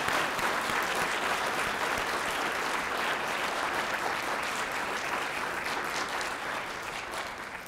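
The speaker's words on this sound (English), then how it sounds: "Please join me in a final round of applause for our Alumni Association Dissertation" A dinner audience at a graduate school alumni recognition event gives steady applause for dissertation award recipients. The dense, even clapping fills the room, holds for several seconds and eases slightly toward the end.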